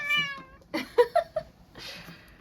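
A cat meows close by, one drawn-out call followed by a few short, quick meows, clear against a quiet room.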